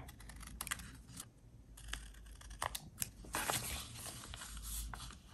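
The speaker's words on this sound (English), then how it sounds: "I'm going to cut off the corner here on the front and the back" Scissors cutting the corner off a paper envelope for a grungy junk journal: faint, close snips and paper crinkles in short irregular bursts, quiet throughout with no talking.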